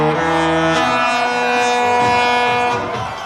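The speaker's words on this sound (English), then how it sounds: "you hear the ship's foghorn for the first time" A Disney Cruise Line ship's foghorn blasts loud and sustained, a deep rich multi-tone chord holding steady for over three seconds before easing slightly at the end, with no talk over it.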